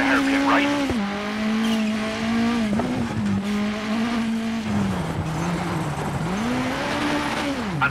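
Rally car in WRC 9 at the Monte Carlo rally, engine note dropping sharply under hard braking into a snowy hairpin, then revving back up through the turn with a steady loud drone.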